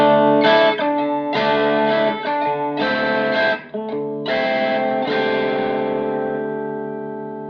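Fender Telecaster electric guitar played through a Fender Blues Jr IV 30th anniversary tube amp with reverb off, ringing out a series of loud, clean sustained chords and short phrases, the last chord left to decay alone.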